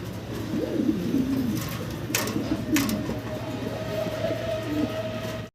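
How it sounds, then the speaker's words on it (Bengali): Black exhibition fancy pigeons coo softly in repeated low burbles, close by, over a constant background rumble. "আমরা দেখতেছি ভাইয়ের কাছে ব্ল্যাক কালারের এক্সিবিশন কবুতর"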